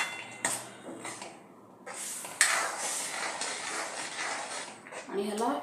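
Semolina sheera being stirred in ghee, a scraping, shuffling and metallic clinking of a utensil in a pan, uneven and moderately close, with a short pause before it resumes, a voice speaking over it at points.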